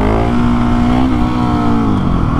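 A KTM 701 motorcycle engine revs hard in first gear, a loud, close, steady high-pitched roar with a rising tone held throughout and no talk.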